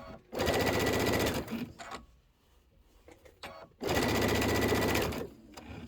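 A sewing machine stitches a Kimberbell Sweet Land of Liberty pillow in two loud, rapid bursts of rattling stitching, separated by a quieter pause with faint handling noises.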